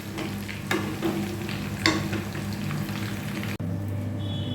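Chicken pieces fry in hot oil for chili chicken, a steady sizzle with occasional stirring clinks and scrapes, close and moderately loud, then a brief break before the bubbling continues.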